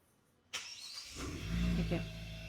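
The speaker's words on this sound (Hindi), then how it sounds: "गाड़ी का इंजन स्टार्ट हो गया" Hyundai Creta N-Line Black Edition engine starting by remote: a sudden crank at about half a second, then a steady idle rumble that swells slightly, close and clear, with a voice talking.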